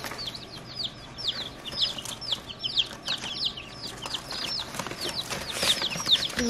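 Young chickens at a farm supply store peep and chirp in rapid, overlapping high calls, fairly close and continuous, with steady background hum.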